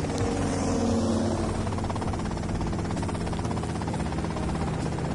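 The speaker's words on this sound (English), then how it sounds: "that's them in the chopper." Helicopter in Grand Theft Auto: Vice City, a steady engine and rotor drone held loud and continuous throughout with no pause or talk.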